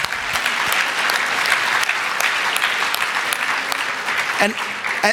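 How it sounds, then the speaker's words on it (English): Sustained applause from a large audience at the closing session of a medical data symposium, a dense steady crackle of many hands throughout, with a few brief voice-like bursts near the end. "let's clap for that"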